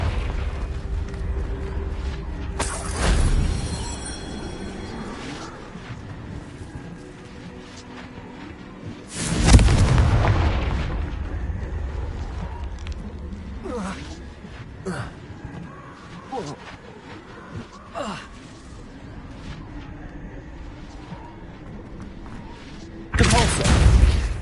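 Confringo fire spell explosions in Hogwarts Legacy on PS5, a few loud booming blasts spaced across the stretch amid spell-casting effects, with a voice calling out between them.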